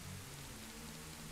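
Steady rain in a Silent Hill mod of the video game Zelda: Ocarina of Time, a constant soft hiss of falling drops with a low droning hum beneath, quiet and unbroken with no voices.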